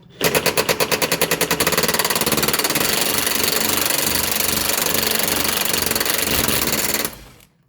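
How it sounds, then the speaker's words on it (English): An impact wrench with a 10 mm socket on a 10-inch extension hammers rusty bolts loose on a 2013 Dodge Grand Caravan: a loud, close, rapid rattling burst that pulses at first, then runs continuously for about seven seconds before winding down. "Now grab a 10 mil on a 10-inch extension, go ahead and fire off the bolts."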